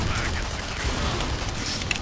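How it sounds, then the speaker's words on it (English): Gunfire in the sci-fi shooter Tribes: Ascend, a dense, continuous crackle of shots and booming impacts with faint voices mixed underneath. "somebody's shooting me"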